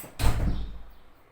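A single door shutting with a solid thud, followed by a short fading rattle, with no voices.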